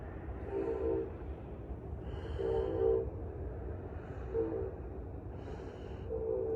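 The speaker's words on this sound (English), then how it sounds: "You can hear the train off in the distance." A faint, distant train rumbles low and steady, with soft horn-like tones rising and fading several times in the background.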